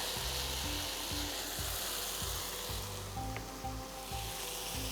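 Cooked rice stirred into sizzling tomato paste in a pan, a continuous frying hiss with rhythmic scraping and stirring strokes repeating throughout at close range.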